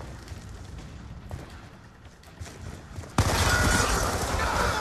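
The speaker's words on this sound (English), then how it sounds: "Friendly death machine spinning up." Death Machine minigun in Black Ops 2, a dense rattling roar that cuts in abruptly partway through and keeps blasting loud to the end over a noisy background of game effects.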